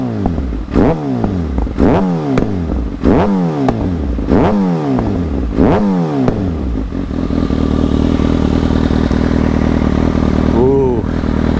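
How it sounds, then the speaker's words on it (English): A Kawasaki Ninja ZX-6R 636 track bike with a Two Brothers racing exhaust revs hard several times in a rhythmic series, each rev falling off with pops and crackles, then settles into a loud, close idle. "this thing here with the pop through the exhaust"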